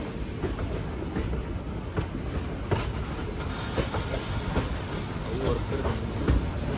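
An express train on the Vijayapura to Mangaluru scenic route brakes to a stop near Yedakumari station, with loud wheel squeal, rattling carriages and rhythmic rail clicks heard from on board.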